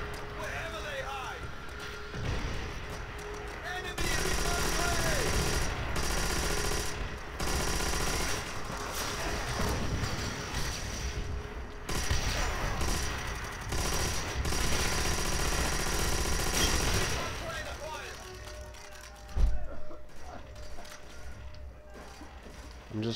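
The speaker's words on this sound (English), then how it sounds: "I'm just firing 3-round bursts because I can't see a fucking thing." Repeated three-round bursts from a rifle in Call of Duty World at War, rattling gunfire continuing through most of the stretch, fairly loud amid game noise while someone talks over it.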